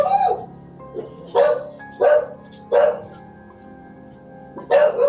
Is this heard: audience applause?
no